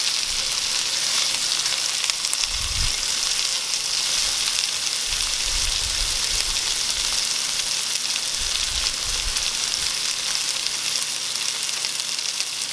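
Italian bread crumb chicken strips sizzle steadily in a pan, a constant bright hiss with occasional low soft bumps, no talking.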